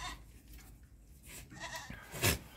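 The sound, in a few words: goat kids bleating, dairy breeds for sale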